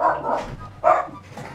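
A dog barks twice close by, each a short, full bark, with a fainter vocal sound trailing after them.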